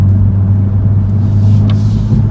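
A BMW M235i xDrive engine drones loudly and close from inside the car during a quick gear change, a steady low rumble with a brief shift blip near the end.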